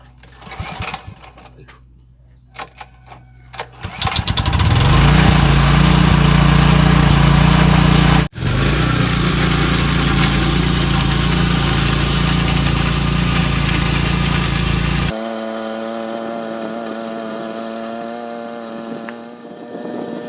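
A farm cultivator engine fitted with rotary tiller blades runs loud and steady in a cornfield, droning close by for about ten seconds before dropping to a lower, rougher idle; a few quieter knocks come first.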